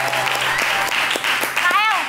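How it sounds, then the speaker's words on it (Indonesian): Studio audience on an Indonesian TV talk show claps in a brief, dense burst, close and fairly loud, with voices mixed in near the end. "tepuk tangan."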